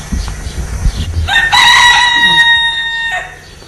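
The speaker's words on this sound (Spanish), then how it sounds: "Ahí tienen las gallinas." Chickens cluck with low, uneven calls close by, then a rooster lets out one long, loud crow lasting over a second in a rural village.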